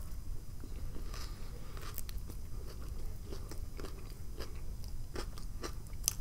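Biting and chewing a BLT sandwich with a black bean patty, close and steady, with soft crunchy bites and crackles repeating through the whole stretch and no talking.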